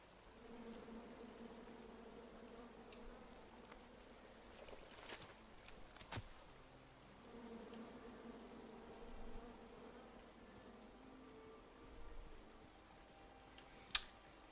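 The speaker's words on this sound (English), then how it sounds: "Come at me, bees!" Buzzing bees from a disturbed beehive in King's Quest, a steady faint drone that swells and fades across the span, with a few scattered clicks and taps and no talk.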